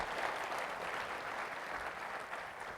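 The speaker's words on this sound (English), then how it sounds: "How about a round of applause?" Sustained applause from a large audience at a formal state-of-the-system address for a college leadership team, dense and steady clapping throughout with no speech over it.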